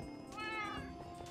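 Cats in Minecraft Block Wars give a single drawn-out, rising and falling meow, close and distinct against a steady game background, with no speech.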